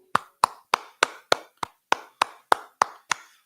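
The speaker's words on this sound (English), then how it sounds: "I clap it up" A person claps their hands eleven times in an even, deliberate rhythm, each clap sharp, close and loud with a short decay and silence between.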